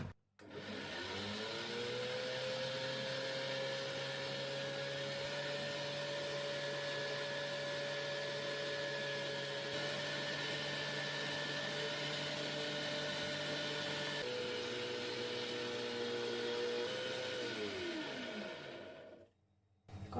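Electric mixer beating brioche dough as milk is added, spinning up to a steady whirring drone, briefly shifting pitch near the end before winding down and stopping, heard alone.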